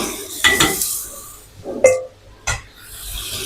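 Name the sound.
stirring noodles and vegetables in a pan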